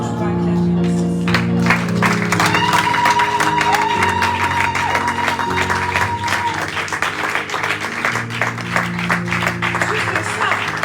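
A church congregation at a Sunday worship service applauds, a dense steady wash of clapping with scattered cheers and whoops, loud and close throughout, while voices call out over it and a held sung or spoken tone runs through the middle.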